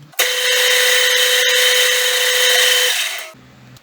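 A power drill with a 3.5 mm bit bores a through hole while building a noisy bollard, one steady loud whine of about three seconds that cuts off sharply, heard alone and close.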